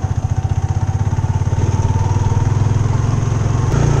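A motorcycle engine runs steadily on a rough rural road near Sitio Mawie, Little Baguio, San Fernando, Bukidnon, with a loud, close, throbbing mid-pitched rumble and rattling clatter that holds constant throughout.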